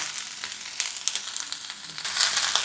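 Ground ginger paste, coriander and cumin powder, turmeric and vegetables frying in a pan for a neem jhol, giving a close crackling sizzle with scattered stirring scrapes and a brighter burst of hissing near the end, no talk.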